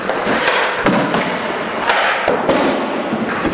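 Hockey shots slam into a goalie's knee pads, several loud close thuds spaced about a second apart over a steady low rumble of the rink.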